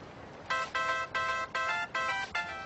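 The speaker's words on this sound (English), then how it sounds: "What a stupid ringtone." A bright electronic ringtone plays a repeating chime pattern, six short bursts in steady rhythm, loud and close with no one speaking.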